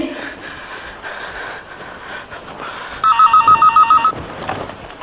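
A telephone bell rings in a short burst of rapid repeated trills, loud and close over a murmuring room background.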